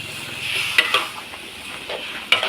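Luffa with pork and fresh chilies sizzles in a large pan while a spatula stirs and scrapes against the metal, with occasional sharp clinks.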